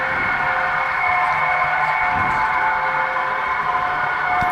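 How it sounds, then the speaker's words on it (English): Model railroad Vectron locomotive hauling a container train on a layout, a steady mechanical hum with sustained tonal whine from the running motor, fairly loud and continuous, with a brief clattering patch midway and no voices. "Here we are passing an NMBS passenger train"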